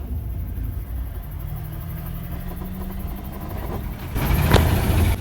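A Ford 7.3 IDI diesel ramp truck engine rumbles low and steady, then rises briefly as it revs, with a sudden louder burst of noise near the end.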